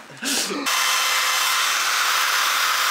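A loud, steady power drill whirring continuously at close range, preceded by a brief rougher burst of grinding.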